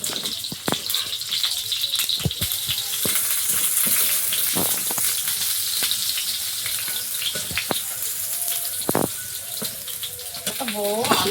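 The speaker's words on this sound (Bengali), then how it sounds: "এই তো কুমড়ো ফুলের বড়া ভাজা শুরু করে দিয়েছি" Pumpkin flower fritters frying in oil give a continuous crackling sizzle with scattered pops and clinks of utensils, while a voice talks intermittently over the cooking.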